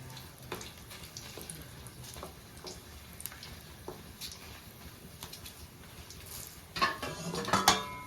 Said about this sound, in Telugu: చూస్తున్నారు కదా, ఎండుమిర్చి వేగిపోయినాయి.